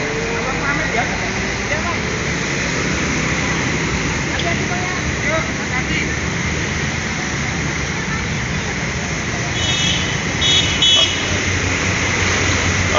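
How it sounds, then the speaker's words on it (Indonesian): A PT Rapi tronton bus pulling away from the company's Palembang office: a steady loud engine and road rumble, with a short horn blast near the end and people talking nearby. "Busnya sudah berangkat."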